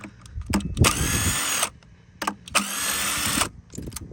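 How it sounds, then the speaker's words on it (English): Two long bursts of a power impact wrench spinning bolts off a Suzuki LTR450 quad during a clutch job, each about a second, with short mechanical clicks and knocks between them, close and loud. "get your handy dandy impact, and we're just gonna zip these bad boys off here."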